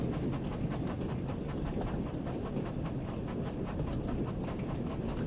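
A diesel train rolls along a heritage railway in a train simulator game. A steady rumble carries faint rhythmic clickety-clack from the wheels, even and continuous, with no voices.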